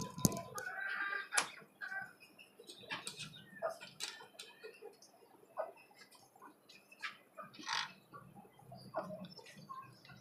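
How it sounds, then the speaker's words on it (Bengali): A tiger rooster on a desi chicken farm gives short, scattered clucks and calls, fairly faint, with other fowl sounds around it and a few quiet gaps between the bursts. "আর এইখানে আছে আমার আরেকটা টাইগার মোরগ"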